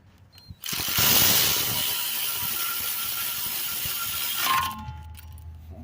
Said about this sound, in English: I'm just gonna snug them, you know, and then tighten them by hand.